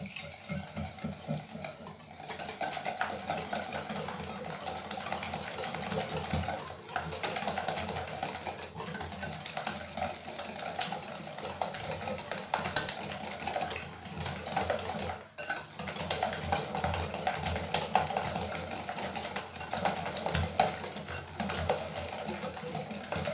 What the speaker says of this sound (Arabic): غادي نخلط المكونات مزيان